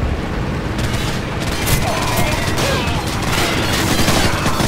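Call of Duty 4: Modern Warfare campaign combat, with a flashbang and gunfire: a dense, steady barrage of loud shots and bursts that fill the whole stretch, with near blasts running continuously and no clear pause.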